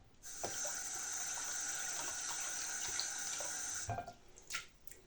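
Makeup brushes caked with blush and bronzer rinsed under a running tap, a steady close hiss of water for about four seconds, then a few splashes and drips as the flow stops.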